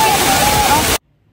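Jhari Falls in Chikmagalur gives a loud, steady roar of falling water that cuts off abruptly after about a second, leaving near silence.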